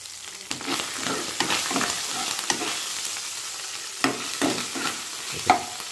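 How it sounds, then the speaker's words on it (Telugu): Cut green chillies frying in a pan for brinjal and tomato curry, a continuous sizzle broken by repeated scraping stirs, close and moderately loud with no talk. "బాగా ఏగాలి పచ్చిమిర్చి."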